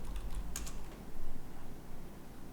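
Typing on a computer keyboard, a brief cluster of quick key clicks followed by steady low background rumble, close and fairly quiet.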